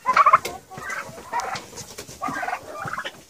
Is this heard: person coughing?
no